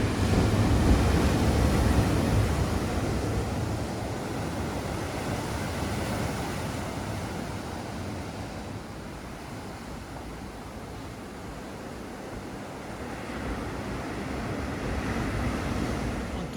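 Big ocean surf breaking on a rocky New Zealand coast, a steady close roar of crashing waves with wind buffeting the microphone, swelling and easing over the whole stretch with no voices.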